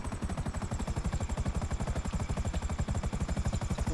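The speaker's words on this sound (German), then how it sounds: "Wobei, ich weiß jetzt nicht, ob der Heli da reinpasst." A helicopter in the video game GTA V flies with a rapid, steady rotor chop, loud and close, the blade pulses repeating evenly throughout.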